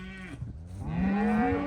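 A cow gives a long, drawn-out moo at close range, a deep tonal bellow that rises slightly in pitch and holds strong near the end, quiet farm air around it.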